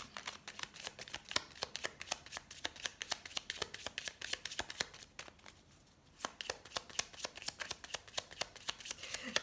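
Tarot cards shuffled by hand during a reading, a long run of quick crisp riffling flicks with a short pause past the midpoint before the rapid shuffling resumes.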